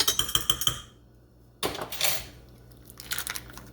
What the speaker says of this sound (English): And I'm just gonna use that spoon to mix it up